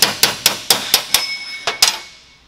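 A hammer taps a part into place under a side gear while fitting a seat bracket kit to an older Ford Super Duty: about nine sharp metallic knocks in a quick, slightly uneven rhythm, close and clear, ringing briefly after the last.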